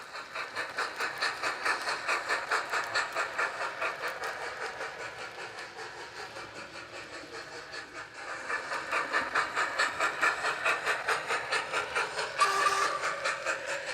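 A TT:120 scale model train rolls along a model railway layout and crosses over through points to an inner loop, giving a steady near rumble with rhythmic clicking over the rail joints and a sharper clack near the end.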